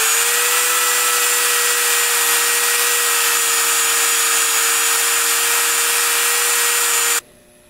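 A power tool with a fine finishing attachment whines at a steady high pitch while smoothing an aluminum timing cover for an AMC V8, running loud and unbroken for about seven seconds before cutting off abruptly.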